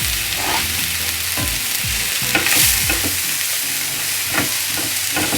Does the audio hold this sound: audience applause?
no